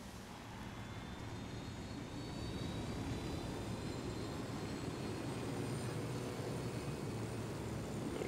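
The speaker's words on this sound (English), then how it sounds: "I'm running for the helicopter." A helicopter in the video game Ghost Recon Wildlands, a steady loud engine and rotor drone that swells slightly and holds without pause.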